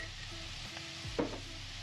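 Salted Ukrainian borscht is mixed in a pot, giving a faint, low stirring swish over a steady quiet simmer, with one slightly louder scrape near the middle and no voices.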